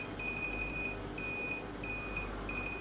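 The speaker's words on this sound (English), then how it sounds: "So the first thing we're going to have a look at is the buzzer." Short electronic beeps from a multimeter continuity buzzer in a steady repeating pattern, each tone sustained briefly with small gaps, over a low background hum.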